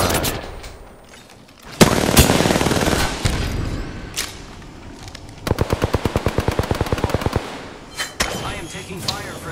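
Gunfire in Apex Legends played on Xbox, with loud bursts and single shots followed by a rapid automatic volley of evenly spaced rounds and a few later shots.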